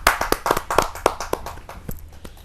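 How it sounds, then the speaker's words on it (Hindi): Audience at a Hindi kavi sammelan poetry gathering claps for an arriving guest, a short burst of sharp, distinct hand claps that thins out and fades over a couple of seconds. "जोरदार ताली के साथ।"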